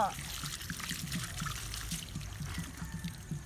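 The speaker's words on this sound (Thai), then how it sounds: "บีบน้ำออกก่อน" Water is squeezed out and trickles in soft, faint dribbles while a baby elephant is being bathed. It is quiet and close, with people talking over it.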